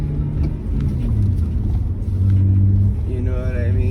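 A 2006 BMW 330i with a six-speed manual gearbox hums at a steady low rumble while driving, its engine droning under someone talking inside the car.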